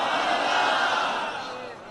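A large crowd at a religious gathering raises a loud, sustained roar of chanted slogans, dense and continuous before fading slightly toward the end.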